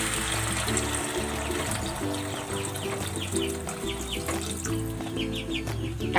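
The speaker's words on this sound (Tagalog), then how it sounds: "At maglalagay na ako ng tubig." Water pours steadily into a cooking pot of seasoned mung beans, a continuous splashing flow over background music, with a rooster crowing faintly in the distance.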